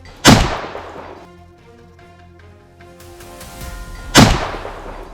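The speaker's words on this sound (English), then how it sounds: "The sound of gunfire rang out." Two sharp, loud gunshots ring out several seconds apart during a wild boar hunt in hills, each followed by a decaying echo, with a quiet hum in between.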